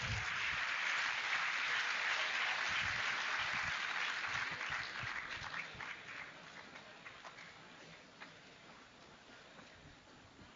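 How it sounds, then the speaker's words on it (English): Applause from a lecture audience at the end of a guest talk on holistic health and wellness, a steady wash of clapping that gradually thins and fades to scattered claps and near silence. "Please give yourself a big round of applause"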